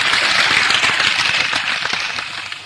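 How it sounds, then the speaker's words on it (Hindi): Audience applause at a Hindi-Urdu kavi sammelan poetry recital in Indore, a dense steady wash of clapping that stays loud throughout and tapers slightly toward the end. "जोरदार ताली"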